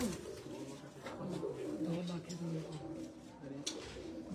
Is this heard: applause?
no